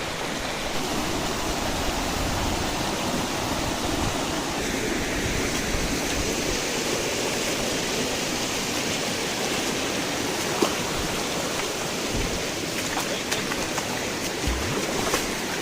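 Steady, dense rush of a year-round waterfall in spate in Mul taluka, with a constant broadband roar heard up close, with no voices.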